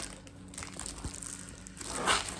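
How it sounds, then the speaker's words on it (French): Crinkling and tearing of paper wrapping, close by, in short bursts with a sharper rip near the end. "Je vais enlever le papier qui est autour."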